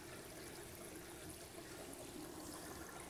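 Steady rush of water poured from a 3000-gallon-per-hour L1 pump into an aquarium sump with no baffles, a continuous even trickling flow heard close and alone.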